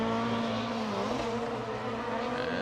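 A Toyota 86 drift car at a Formula Drift qualifying round in Orlando roars continuously at high revs, its engine note wavering slightly as it slides through the course, loud and sustained with no pauses.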